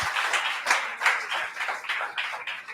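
A church congregation applauds during a sermon, a soft, diffuse wash of many hands clapping with a few louder claps standing out, heard at moderate distance and fairly quiet.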